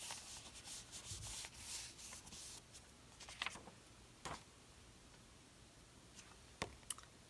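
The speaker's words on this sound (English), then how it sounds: "then I'm going to flip this over and rub it." Paper rubbed by hand over a stamp laid on card for a crafting background, soft scratchy rubbing strokes in bursts at close range, followed by a few light clicks and taps, with no talking.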